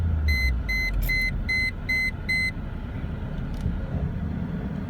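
A 2000 Mercedes-Benz CLK430 sounds its park brake warning as a run of six short, evenly spaced electronic beeps over a low engine and road hum, then the chime stops while the rumble continues.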